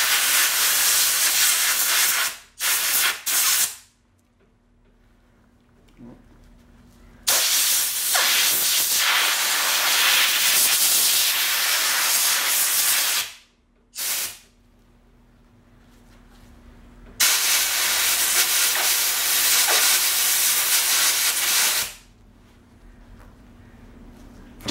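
Compressed air blasts out of an air compressor nozzle to blow out a used motorcycle oil filter during an oil change on a 2016 KTM 350 EXC-F, loud hissing bursts lasting several seconds each with short pauses between.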